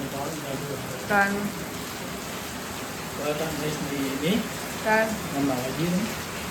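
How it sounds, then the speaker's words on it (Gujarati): Steady rain hisses throughout, with people talking intermittently over it. "ચાલુ છે વરસાદ જુઓ"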